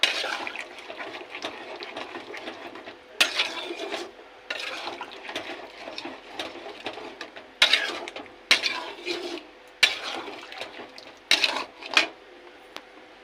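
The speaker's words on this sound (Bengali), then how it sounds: "কড়াইতে মাংসের মধ্যে দইটা দিয়ে এবার মিশিয়ে নেবো" Yogurt being stirred into chicken in a metal wok for biryani, with repeated scraping and clanking of a spoon against the pan in uneven bursts, close and fairly loud, separated by quieter moist mixing sounds and no voices.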